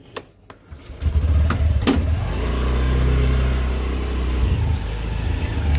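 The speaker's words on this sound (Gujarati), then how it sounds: "આપણે હવે એક્ટિવા 6G ઉપાડીએ" A Honda Activa 6G scooter engine starts after a few light clicks, then settles into a loud, steady close-up hum as it runs and pulls away, with no talking.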